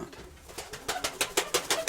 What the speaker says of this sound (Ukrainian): Діти з-під вашої голубки. Двоє голубенят.